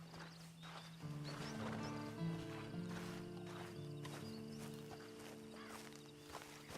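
Horse hooves clip-clop at a steady walking pace in Red Dead Redemption 2, mixed with a low droning music bed and faint ambient noise throughout.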